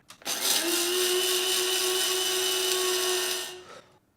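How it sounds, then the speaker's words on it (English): Electric coffee grinder grinding coffee beans: a sharp startup click, then a steady high whirring buzz for about three seconds that winds down as the motor stops, close and loud with no talk. "So, onto the grinder."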